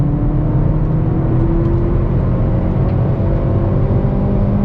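Loud, continuous engine drone from inside a 2022 Hyundai Veloster N with an 8-speed dual-clutch transmission as it pulls along a race track, the tone holding fairly steady without breaks.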